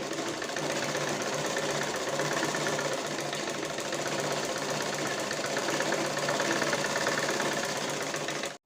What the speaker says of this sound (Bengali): এখন উপর দিয়ে একটা চাপ সেলাই দিয়ে নিচ্ছি